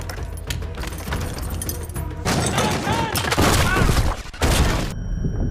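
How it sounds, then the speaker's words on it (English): Gunfire erupts in a film shootout as cult gunmen open fire and attack, with a dense, loud barrage of shots and booms mixed with shouting voices and a busy action soundtrack. "members of the cult begin to open fire and attack"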